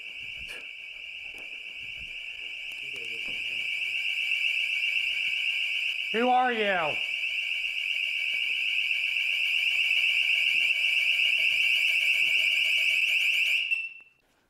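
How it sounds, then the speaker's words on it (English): A loud, steady electronic alarm beeps continuously in a room of a funeral home, holding one piercing tone for about fourteen seconds before cutting off, while a voice speaks briefly over it. "Why do you keep setting the alarm off in that room?"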